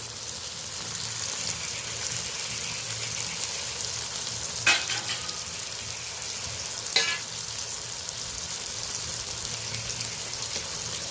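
Spice paste with garlic and ginger paste being fried with country chicken in a pan, a steady close sizzle with two sharp utensil scrapes, no talking.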